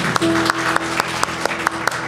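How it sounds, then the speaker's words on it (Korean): A church congregation at a Wednesday worship service claps together in a steady, evenly spaced rhythm, with a sustained tone held underneath. "우리 한번 서로에게 사랑과 환영의 박수 나누겠습니다"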